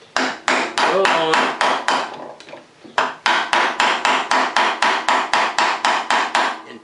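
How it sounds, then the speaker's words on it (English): A hammer peening the back of a metal clamp strikes in fast, even bursts of sharp metallic blows, loud and close, with a brief pause midway before a steady run of evenly spaced hits resumes. "peen the back of the clamp, and you're going to want to do the other side"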